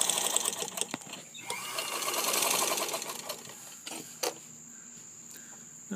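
Singer 15-75 sewing machine stitching in reverse with white thread through pink fabric, making small short stitches: a steady, close whirring mechanical chatter that rises and falls over several seconds, with a few brief clicks and pauses, no talking.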